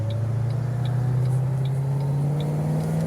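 A 2007 Shelby GT500 with its supercharged engine pulling in second gear, a steady rising drone with a faint whine riding on top, close and even in level without pauses.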